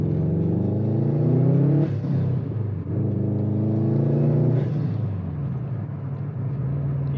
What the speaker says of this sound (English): That boxer engine with a blower valve thing